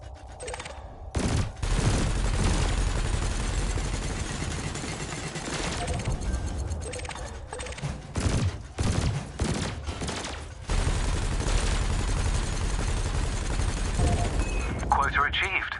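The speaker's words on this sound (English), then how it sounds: "your laser will fire until the capacitor is depleted" Ship weapons fire in the space game Elite Dangerous: repeated bursts of laser and cannon shots in rapid volleys, broken by short pauses, loud and close throughout.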